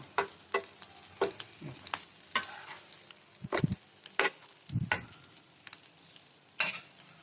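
Leftover flatbread spread generously with butter crisps in a pan over medium gas, giving a light steady sizzle broken by scattered scrapes and a few louder turning knocks.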